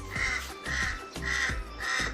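A crow perched on a solar light outdoors caws four times in an even rhythm, loud and close.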